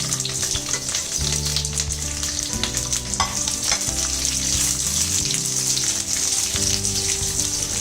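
Onion and capsicum fry in oil in a pan for Kadai Paneer, giving a loud, constant sizzle broken by repeated scraping stirs of a spoon against the metal, with no voices.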